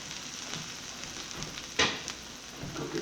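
Breaded northern pike fillets sear in a pan with a soft, continuous sizzle and faint crackle, broken by one sharp spit of hot fat partway through.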